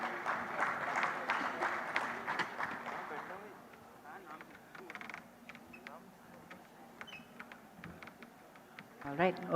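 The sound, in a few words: audience applause for summit panelists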